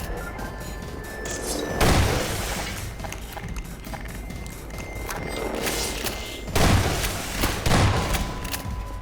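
Gunfire in the Half-Life mod Baryonic Predicament, with two heavy bursts of shots and thuds over a steady game background while fighting Combine Metrocops and manhacks.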